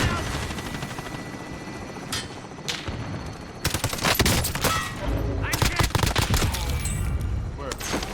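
Loud, dense bursts of rapid gunfire in a video game, aimed at a plane and layered over a steady aircraft engine roar, come in repeated volleys that grow heavier toward the end.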